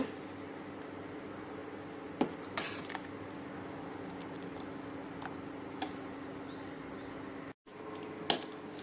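Vegetable sambar is stirred in a pot, faint quiet scraping with a few sharp metal clinks of a spoon against the rim, scattered over a low steady background hum.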